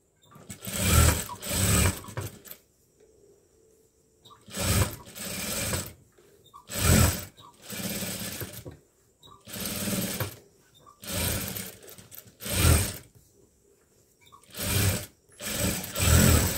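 Sewing machine stitching a sleeve: loud, close whirring bursts of rapid stitching, each one to two seconds long, separated by short quiet pauses, about nine runs in total.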